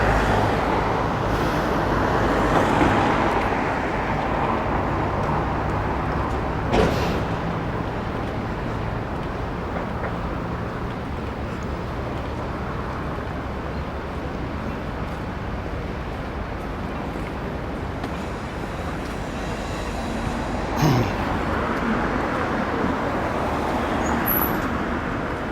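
Steady road traffic on a busy London street near Aldgate East and the Tower of London, a continuous rumble of cars and buses passing close by, with a couple of louder swells from nearer vehicles and no talking.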